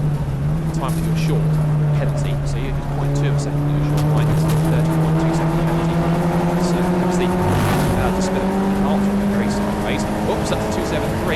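Race cars in a BRSCC ClubSport Trophy race at Silverstone: loud, continuous engine drone that climbs steadily in pitch as the cars accelerate, with a commentator's voice running over the roar throughout.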